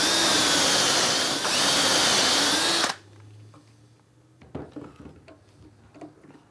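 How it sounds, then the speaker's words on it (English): A power drill bores dowel holes through a Dowelmax jig, a loud steady whine for about three seconds that cuts off abruptly, followed by quiet clicks and light handling noises. "then we'll drill four holes for this particular joint"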